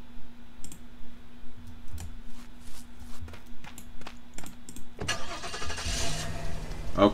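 Car engine starting in the Roblox game Apocalypse Rising, preceded by scattered clicks and footstep-like taps over a low hum, then a sudden loud engine catch and rumble taking over for the final couple of seconds.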